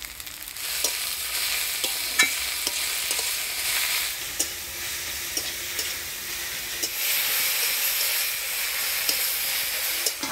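Chopped jute leaves sizzling and frying in a pan with onion, salt, cumin, green chilli and a little turmeric, a steady hiss broken by occasional scrapes and clinks of stirring.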